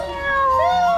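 A voice imitates a cat's meow at Patna Zoo, a drawn-out rising and falling mew held for about a second, close and fairly loud.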